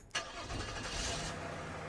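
A car in Streamer Life Simulator starts up: a brief crank, then the engine catches and settles into a steady, continuous running drone, moderately loud with no talking.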